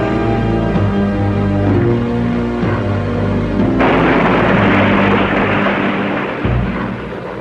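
Anti-submarine bombs dropped from a Soviet amphibian plane explode at sea in a loud, sustained rumbling boom that swells into a broad noisy roar midway and continues to the end, with no voices.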